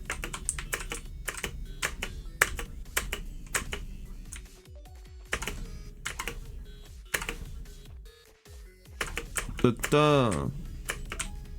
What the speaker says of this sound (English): I'm just playing with my keyboard because the reasons.